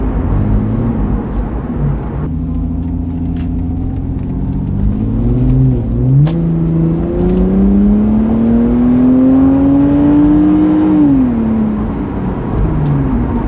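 A Lexus IS300 fitted with a GReddy exhaust pulls hard at about three-quarter throttle, the engine note climbing steadily in pitch before easing off, with a steady road rumble underneath and some faint cabin sound.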